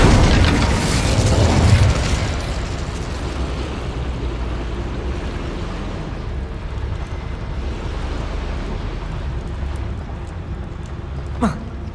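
Fire spell cast in the video game Hogwarts Legacy: a loud burst of flame opens, then a steady rumbling roar that slowly settles into a softer crackling hiss, with a brief sharp rising whoosh near the end.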